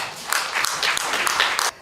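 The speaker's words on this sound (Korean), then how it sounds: "박수 한번 주십시오." A crowd at a book launch event claps steadily, a dense patter of applause filling the space before cutting off abruptly near the end.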